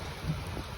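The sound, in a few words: heavy rain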